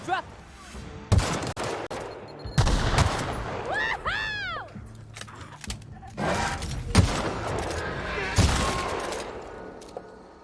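Gunfire in The Outer Worlds video game: loud, sharp shots and short bursts recur across the stretch, with a brief tonal whine partway through.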